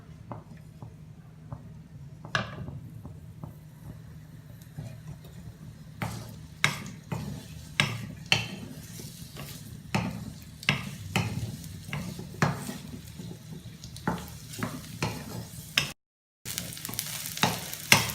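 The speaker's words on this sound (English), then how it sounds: "we will mix our chopped onion into the heated oil and roast it for some time" Chopped onion roasting in heated oil in a kadhai: a steady low sizzle runs throughout, broken by frequent sharp clicks and scrapes of a spoon stirring against the pan, close and moderately loud.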